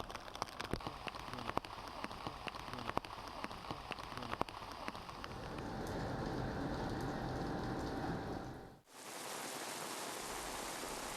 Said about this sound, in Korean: 오전부터 비가 내리면서 한때 소낙비도 내렸습니다.